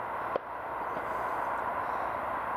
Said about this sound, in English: And you can hear the busy M40